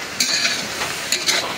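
Onions sizzle in hot oil in a wok while being stirred for khichuri, a steady hiss broken by a few sharp scraping strokes of the utensil.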